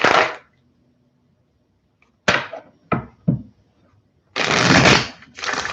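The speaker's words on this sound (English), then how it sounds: "Try to get some good shuffles going here." Tarot cards riffle in quick bursts close up, a few short shuffles then a longer, louder stretch of shuffling, with quiet pauses between.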